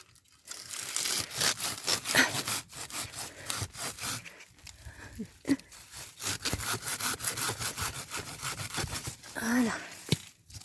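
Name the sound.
hand saw cutting yucca trunk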